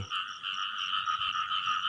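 Frogs croak in the rain, a close, repeating pulsing chorus of raspy calls in a steady rhythm that carries on without pause.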